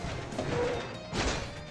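A truck crashes in the mobile game Hill Climb Racing 2, two short muffled smashing impacts over a low rumbling background, heard alone without talk.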